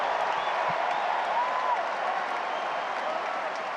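Spectators at a US Open tennis match break into sustained applause, a dense wash of clapping from a large crowd that holds steady throughout.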